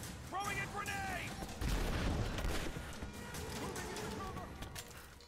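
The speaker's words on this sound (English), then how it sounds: "Throwing a grenade." A grenade thrown and detonating in Rise of the Tomb Raider: a low booming burst midway amid rattling, gunfire-like crackle and game ambience, with voices talking over much of it.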